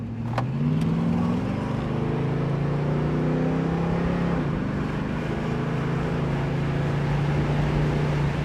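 A 1979 Pontiac Trans Am accelerating hard through its gears, engine note climbing with a shift midway, then pulling again as a loud, steady drone close by.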